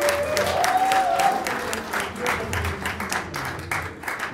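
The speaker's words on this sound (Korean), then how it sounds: "인사할 때 큰 박수로 격려해 주십니다." An audience at a church retreat claps steadily for actors bowing after a group skit, dense scattered hand claps rolling on for several seconds at moderate level, with a faint tone briefly audible early on.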